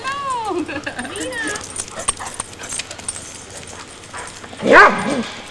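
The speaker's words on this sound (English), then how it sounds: "See that Doberman, Tom?" A Doberman barks in a few sharp, loud bursts near the end, with people talking and background chatter throughout.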